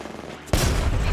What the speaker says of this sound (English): Five bots are shooting at me.